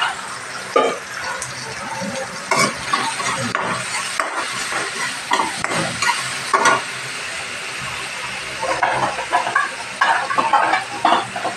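Bitter gourd and tomato being sautéed in a pan at home, with a steady sizzle and intermittent scraping stirs, while chickens cluck nearby in the background.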